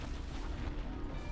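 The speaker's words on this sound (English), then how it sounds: "It's way too close for the explosion." An explosion in the video game Dark Souls gives a dense, loud, rumbling blast that fills the whole short stretch without a break.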